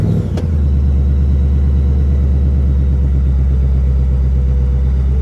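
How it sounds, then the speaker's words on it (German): A 2021 Ford Mustang engine starts with a brief sharp clunk, then settles into a steady, loud, close idle rumble. "ich starte jetzt den Wagen."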